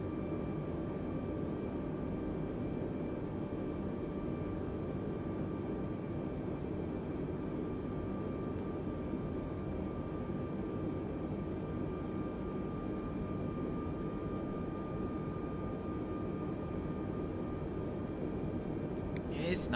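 Airbus A320neo airliner on approach with flaps and landing gear extending, simulated in Microsoft Flight Simulator 2020: a loud, steady cabin roar of engine and airflow with constant whining tones, unbroken throughout, ending in a brief click.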